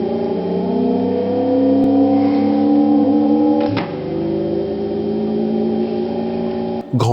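Synthesized race car engine from the Atari Gran Trak 10 arcade video game: a loud, buzzy electronic drone holding steady pitch with a slight rise, a brief crunchy burst midway, then a sudden cut near the end.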